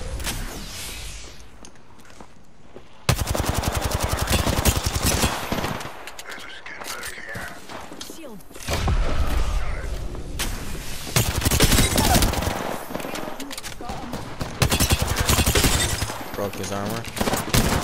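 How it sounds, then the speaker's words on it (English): Incoming gunfire in a video game shooter, long loud rattling machine-gun fusillades broken by short lulls, close and dense, with a voice talking over parts of it. "They're shooting at me."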